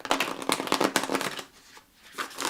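Oracle cards are shuffled by hand in a fast run of crisp papery flicks for over a second, then a quiet pause before a few more riffles, close and alone.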